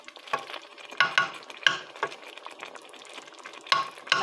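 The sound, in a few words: okra stew boiling in a pot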